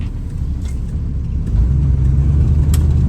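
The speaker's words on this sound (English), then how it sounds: "It runs really well, holds a really nice idle." A 1968 Chevrolet Camaro Z28 tribute's warmed-up engine idles steadily up close, a loud, deep rumble that swells slightly heavier partway through and holds there, with no talking.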